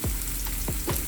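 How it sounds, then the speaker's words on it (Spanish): Sofrito for Cuban ropa vieja sautéing in a pan, a brief, constant, close sizzle with a few soft stirring sweeps. "Volvemos a saltear y luego vamos a mover un poquitico para expandir bien todo"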